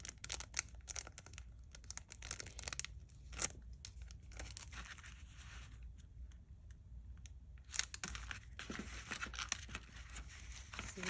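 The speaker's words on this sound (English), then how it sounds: "I'm just going to use some simple sticky tape, double-sided tape right here." Double-sided sticky tape torn from a roll and pressed onto paper for a 12x12 checkbook album page, quiet close-up crackles and sharp rips with a couple of louder tearing bursts, no talking.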